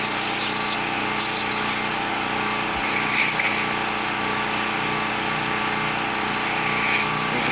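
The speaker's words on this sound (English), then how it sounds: "I'm just going to spray that a little bit." Loud bursts of aerosol cleaner spray hiss onto an old small engine's carburetor in short and long blasts, close by, with brief pauses between them.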